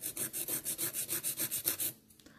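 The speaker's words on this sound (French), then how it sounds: "j'ai simplement passé un coup de lime d'un côté" Coarse 80-grit nail file rasping across a gel nail during a stiletto almond gel application, about a dozen quick, even back-and-forth strokes close up, then stopping abruptly.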